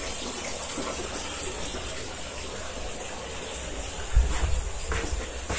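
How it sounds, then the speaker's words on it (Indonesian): Water runs steadily from a tap at a mountain campground near the bathrooms, a continuous hiss with a brief louder splash near the end. "Di sini juga ada keran air."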